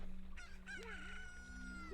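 A rooster crows in the video game Zelda Ocarina of Time, one rising and falling call standing clearly over a steady electronic background hum.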